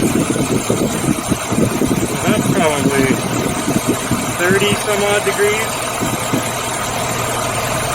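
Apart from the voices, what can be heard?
Suzuki Samurai engine idling high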